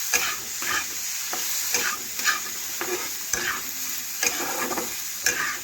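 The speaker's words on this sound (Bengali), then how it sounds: "এটাও ভালোভাবে নাড়াচাড়া করে আলুর সাথে মিশিয়ে নিলাম।" Potatoes with a little turmeric are stirred in a frying pan, giving a steady hiss of frying with repeated scraping strokes of the spoon every second or so, close and alone.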